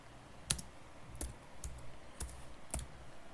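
Sparse, separate key presses tap on a computer keyboard while code is entered, five or six close, quiet clicks spaced unevenly over a faint room hum.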